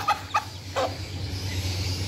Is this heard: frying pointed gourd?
no